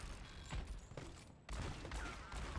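Revolver fire from McCree in the video game Overwatch, a cluster of sharp gunshots with mechanical clicks over busy game effects and ambient noise, loud and close throughout.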